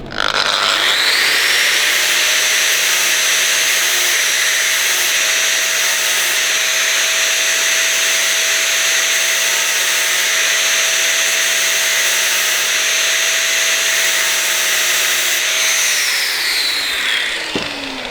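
A grinder runs steadily for about fifteen seconds, shaping a ball for a Harley oil pump, a loud, even high whine that spins up at the start and winds down at the end, with no talking.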